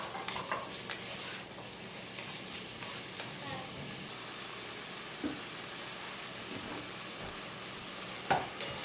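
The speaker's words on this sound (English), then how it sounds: "now that our oil is hot, we're going to go ahead and add our onions. And, you know, mix that well. And I'm going to add my garlic." Onions and garlic fry in hot oil for a vegetarian chili, a steady close sizzle with scraping stirs and a few sharper clinks and pops from the spoon against the pan.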